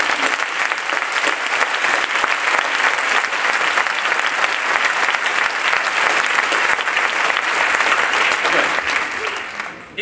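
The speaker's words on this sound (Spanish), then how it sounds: "por favor les pido un aplauso" A large audience at a graduation ceremony claps loudly and steadily, the applause holding at full strength for the whole stretch and barely tapering at the end.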